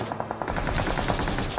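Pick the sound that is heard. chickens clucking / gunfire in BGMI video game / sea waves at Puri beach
gunfire in BGMI video game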